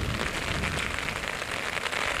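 Rain falls outdoors in the Sierra Nevada, a steady dense hiss of drops pattering on surfaces all around, fairly loud and unbroken, with no voices.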